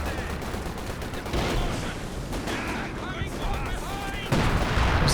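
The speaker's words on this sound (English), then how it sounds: "Getting some concentration barrage coming in" Artillery barrage shelling in the Company of Heroes 2 strategy game: a steady wash of distant rumbling impacts and gunfire, with a louder blast near the end, mixed with game effects and voices.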